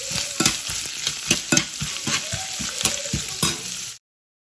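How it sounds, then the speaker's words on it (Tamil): Coconut pieces fry in ghee with a bright continuous sizzle, while a utensil scrapes and stirs in quick repeated strokes close by; no one speaks. "திருப்ப கொஞ்சம் நெய் ஊற்றி நம்ம கட் பண்ணி வச்சுருக்க தேங்காயை அதில் போட்டு நல்லா பொன்முருளாக வறுத்து எடுத்துக்கலாம்"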